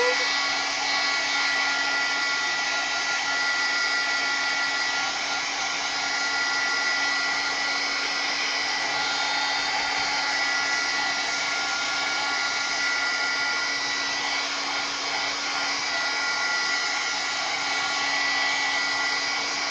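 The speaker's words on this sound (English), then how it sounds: "I'm going to heat that up real quick before I remove the tape" A heat tool blows a steady, loud whooshing hum for about twenty seconds, drying a paint layer on a mixed-media canvas, unbroken and close.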